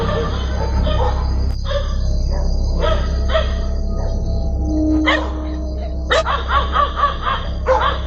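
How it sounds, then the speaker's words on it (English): Dogs bark outdoors in the middle of the night, sharp repeated barks, some farther off and some nearer, over a constant low hum and chirping insect-like background. "dogs barking loudly in the middle of the night"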